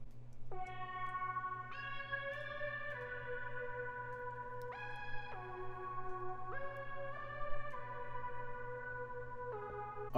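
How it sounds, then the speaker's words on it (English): A synth lead plays a stepping melody of sustained, bright tones with effects and echo, alone over a steady low drone, in a West Coast-style beat. "this is the lead, and this is what it sounds like by itself."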